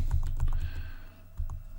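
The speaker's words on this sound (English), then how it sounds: "If I come out here and I just type a 1, and I'm just using my arrow keys here, right?" Keys click on a computer keyboard as a number is typed and arrow keys are pressed to move between spreadsheet cells, several quick close taps in small bursts, with no talking.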